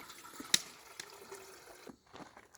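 A coffee percolator brewing spring water at a campsite, soft irregular gurgles, drips and bubbling pops with a sharp click early on, close and quiet.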